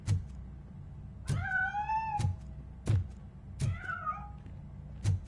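A cat in the video game Robocop: Rogue City meows twice, with rising-falling cries between a series of sharp thuds, close and clear with no talk.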